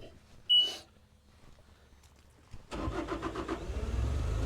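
A 2024 Bobcat S76 R Series rubber tire skid steer loader starts up after a brief click and quiet pause, its diesel engine catching and settling into a steady, close idle.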